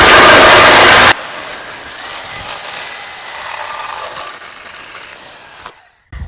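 A Sawzall reciprocating saw cuts into a solar thermal panel's metal absorber plate, a loud harsh burst for about a second, then quieter buzzing handling and scraping sounds that fade out.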